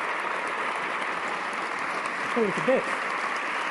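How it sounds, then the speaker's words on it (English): Audience applause for the guests at a debate on God's existence between William Lane Craig and Stephen Law, a steady sustained clapping wash from a hall crowd, with a brief spoken remark partway through. "Would you join me in giving a round of applause to both our guests today?"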